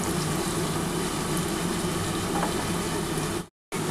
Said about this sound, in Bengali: আমার কিন্তু পেঁয়াজটা কিন্তু মোটামুটি ভাজা হয়ে এসছে।